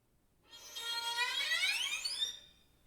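Bowed strings sliding upward in a glissando with a glassy, whining sul ponticello tone near the bridge, swelling in over about two seconds and fading out, with no voices.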